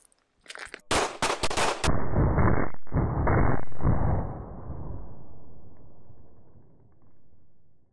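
Rapid volley of close gunshots fired into soft Level IIIA body armor on a test range, a loud burst of cracks followed by more shots and a ringing, decaying echo.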